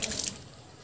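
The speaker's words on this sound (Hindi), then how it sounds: "और इसे हटाते ही दोस्तों ये पानी सारा इस तरीके से गिर जाएगा" Water pours out of a plastic bottle through a hole in a short splashy gush that fades quickly into quiet.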